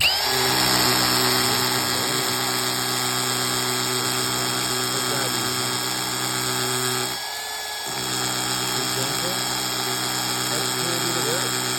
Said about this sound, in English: So here we have our hammer drill, you're going to need one, and a masonry bit.